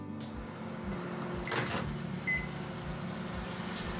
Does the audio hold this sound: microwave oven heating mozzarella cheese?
yes